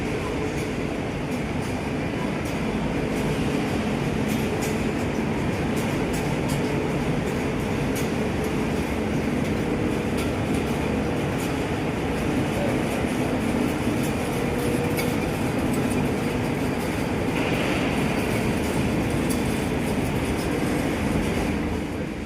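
A train at a station platform in Spain rumbles steadily and loudly at close range, a continuous roar of wheels and machinery with faint rhythmic clatter throughout.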